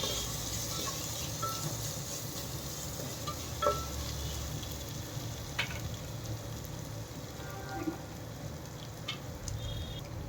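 Mushroom biryani masala fries with turmeric being stirred in, giving a soft, continuous sizzle and crackle with a few faint clinks and no voices.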